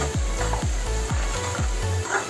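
Onion and tomato masala fries in hot oil with a loud, close sizzle. It is stirred in a regular rhythm, with about five scraping strokes across the pan.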